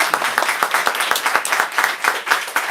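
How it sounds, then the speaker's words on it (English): Audience claps for two authors at a book event, brisk close-up hand claps with a clear, rapid rhythm over a crowd backdrop for a few seconds. "let's give these two one last round of applause."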